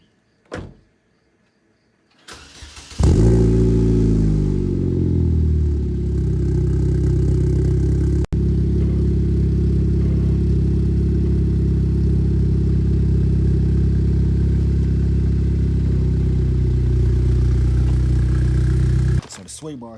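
A Chevrolet Cobalt SS fitted with a ZZP 3-inch exhaust starts up after a short clatter, then idles loud and steady at close range with a deep, even drone for about seventeen seconds before cutting off.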